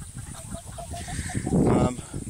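Dominique chicken hens clucking close by in a short series of quick rhythmic clucks rising into a louder burst, with faint voice-like sounds around them.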